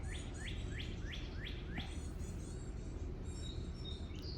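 Birds singing in a backyard, a bird repeating a rising chirped phrase about six times in quick succession, then other higher tweets, moderately near over a steady background hum.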